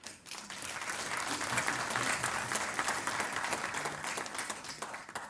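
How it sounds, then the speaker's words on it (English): Sustained applause from an audience at a professorial inauguration, a dense wash of many hands clapping for several seconds, fairly distant and even, with no voices standing out. "they also deserve a round of applause"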